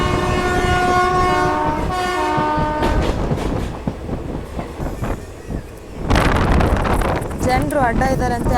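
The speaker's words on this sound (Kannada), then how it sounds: "ಯಾವ ರೀತಿ ಆರನ್ ಕೊಡ್ತಾ ಇದ್ದಾರೆ ನೋಡಿ" Horn of the Bengaluru–Mysuru Rajya Rani train with ICF coaches, a loud sustained multi-tone blast over rattling wheels and wind rush, followed by a second horn burst near the end while people talk.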